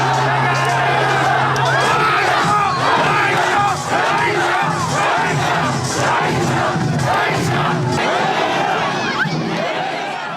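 Tens of thousands roar and shout together at the Gijisi tug-of-war festival, a loud, continuous crowd din of massed yelling and cheering.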